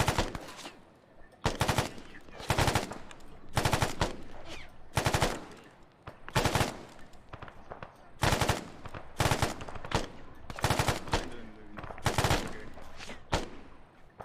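Sniper gunfire during an attack in Iraq cracks out in repeated loud bursts, sharp shots spaced a second or two apart over a rumbling background, with faint voices underneath.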